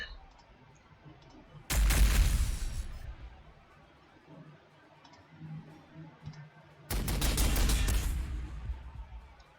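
Two loud bursts of gunfire erupt in the Warhammer 40,000: Sanctus Reach strategy game, each a dense rattling volley lasting a second or two, separated by quiet background hum.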